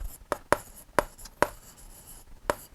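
Chalk or pen writing strokes on a board during a Class 6 maths lesson, a series of sharp, distinct taps and scrapes at irregular intervals, close and clear with no talking.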